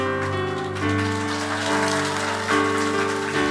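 A church congregation claps during a Sunday morning service at a birthday celebration for the church, a dense, lively round of applause over lingering organ or keyboard tones, swelling twice.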